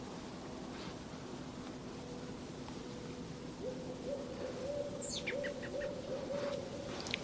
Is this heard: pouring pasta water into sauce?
no